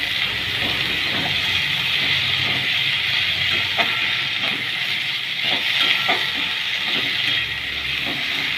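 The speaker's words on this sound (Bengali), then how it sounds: "ক্যাপসিকাম আর পেঁয়াজ 2 মিনিট ভেজে নেব।" Capsicum and onion fry in a pan, giving off a loud continuous sizzling hiss with scattered crackles and stirring taps close by.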